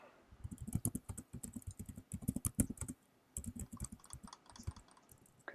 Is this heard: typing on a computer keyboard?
yes